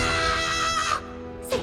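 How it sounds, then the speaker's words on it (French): A shrill, girlish scream from a character in the French-dubbed animated series Transformers: Prime. It is loud and sustained for about a second, then breaks off, followed by a short high yelp. "C'est toi qui viens de hurler comme une petite fille?"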